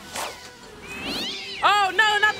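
A cat in How the Grinch Stole Christmas (2000) lets out drawn-out rising yowls and caterwauls, loud and close, with voices sounding alongside the wailing.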